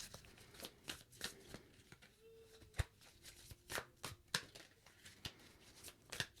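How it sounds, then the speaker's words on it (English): A deck of cards is shuffled by hand close by, quiet crisp snaps and riffles in irregular bursts with short gaps, some strikes sharper than others, and no talking. "Thank you for being so patient with me as I shuffle."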